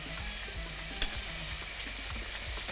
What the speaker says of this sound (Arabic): يبقى انا حطيت على البشاميل ملح وفلفل ورشه جوزه الطيب وقلبتهم كده